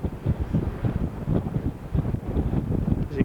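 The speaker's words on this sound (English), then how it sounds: "it's very windy up here now, so it's hard to get a steady shot of anything" Hard wind buffeting the microphone high atop a tower overlooking Put-in-Bay, a continuous rough low rumble with gusty surges and no voices.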